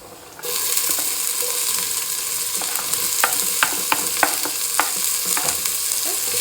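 Chopped onion and garlic frying in a hot pan for Italian meatballs and sauce, a steady close sizzle starting abruptly after a brief quiet moment, with intermittent stirring clicks and scrapes throughout.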